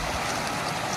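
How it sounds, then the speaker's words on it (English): A creek near a campsite fire pit at Hazel Creek by Fontana Lake flows with a dense, steady rushing wash of water, loud and close, with no voices over it. "there's the creek."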